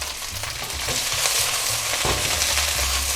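Leafy vegetables with their stalks, lightly salted, stir-fried in a wok for a pork rad na dish: a steady, close, loud sizzle with scraping stir strokes throughout, no voices.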